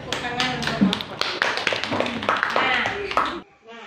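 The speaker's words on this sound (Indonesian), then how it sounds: "Silakan tepuk tangan untuk kelompok." Students in a classroom clap for a group, a burst of close, sharp handclaps with voices mixed in, stopping abruptly near the end.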